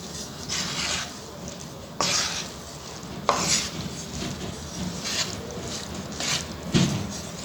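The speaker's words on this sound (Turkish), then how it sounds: "Dereotu, maydanoz, nane. Bunu güzel karıştırıyoruz." Dill, parsley and mint are stirred into a stuffing mixture for stuffed zucchini flowers, soft scraping and rubbing strokes in a bowl, close and quiet, repeating in irregular sweeps.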